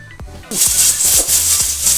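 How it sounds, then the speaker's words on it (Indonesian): Panci presto pressure cooker on a stove releasing steam, a loud, sudden hiss that starts partway in and keeps going strongly, with faint clinks and a quiet voice underneath. "di menit ke-8 dia sudah mulai ngeluarin pressure yang kenceng begini"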